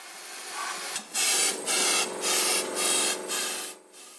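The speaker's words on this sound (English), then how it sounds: "First of all, blow out dust starting from the bottom of the hole." Dust blown out of a drilled hole for a chemical anchor: a hissing rush of air in five short bursts, each about half a second long with short gaps between them, close up and loud.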